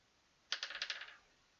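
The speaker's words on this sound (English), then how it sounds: "One more dice roll." Dice tumble in the video game Oblivion, a quick burst of small clicking rattles lasting well under a second, clear and close against a quiet background, with no talking over it.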